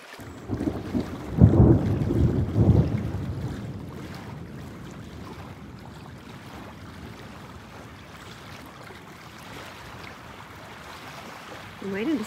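Thunder from a passing storm over a lake on a canoe route rolls as a low, muffled rumble that swells early and then fades into steady wind noise.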